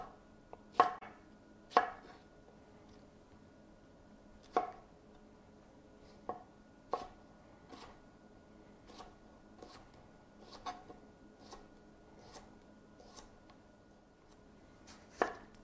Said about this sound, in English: I'll just cut all of these cucumbers into slices that are about